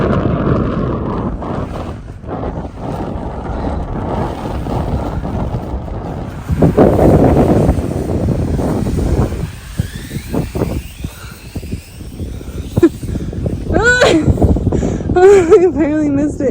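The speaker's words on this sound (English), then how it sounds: "It is definitely getting cold and windy now that storm is coming in." Strong gusty wind buffets the microphone outdoors in Carson City, Nevada, as a snowstorm moves in, a loud, steady low roar broken by sudden gusts throughout, with people talking over it.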